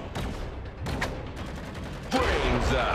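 Video game gunfire in Evolution 2: Battle for Utopia, several quick bursts of shots over a few seconds with a louder burst near the end, mixed with game sounds.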